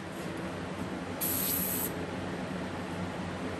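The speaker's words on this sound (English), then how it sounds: "I push it right through the paint sprayer" A paint spray gun spraying accent glaze gives a short hiss lasting under a second, close and fairly quiet, over a low steady background hum.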